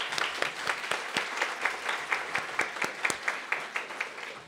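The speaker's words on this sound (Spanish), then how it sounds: "primero un aplauso para Juan," An audience gives Juan a round of clapping, with individual claps clearly separable as a moderately sized crowd applauds steadily at middling loudness, ending with a brief bump at the close.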